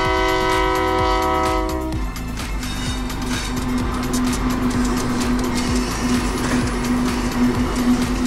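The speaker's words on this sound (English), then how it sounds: "Oil trains are large capacity vehicles used to transport oil or liquefied gases all over the world." An oil train carrying oil or liquefied gas sounds a loud, sustained multi-tone horn for about two seconds, then a steady rumbling rail roar with a held tone continues as it passes close by.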